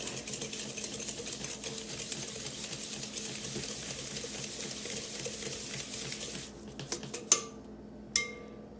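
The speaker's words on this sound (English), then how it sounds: "vegetable oil, 1 cup of sugar, and we're going to give it a good mix" Vegetable oil and sugar being whisked together in a bowl for blueberry muffins, a fast, steady clatter of the utensil against the bowl, ending with a couple of louder knocks.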